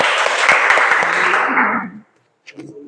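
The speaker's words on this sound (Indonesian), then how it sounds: "tepuk tangan." Students clapping together in a classroom, a dense burst of applause lasting about two seconds before stopping abruptly, followed by brief faint noise.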